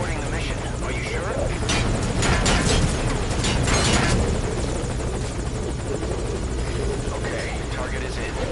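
Constant heavy rotor chop and turbine drone from a Metal Gear Solid V helicopter, loud and continuous, rising in intensity partway through while game dialogue and speech run beneath.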